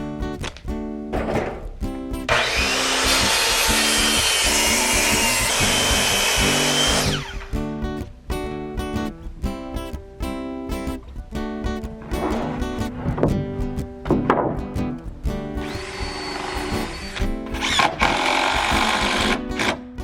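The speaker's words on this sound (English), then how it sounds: "We're gonna get some decking boards up here and start fastening them together." White oak decking boards fastened with stainless steel screws by a power driver, long whirring bursts of the tool with rapid rattling clicks between them, close and loud with no talking.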